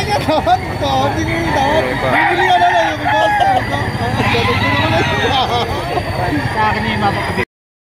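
Chickens and roosters at a busy market in Lipa, Batangas crow and cluck loudly and close by, with people talking and haggling throughout.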